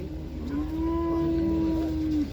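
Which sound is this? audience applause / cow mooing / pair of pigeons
cow mooing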